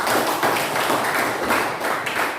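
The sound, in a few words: applause from classroom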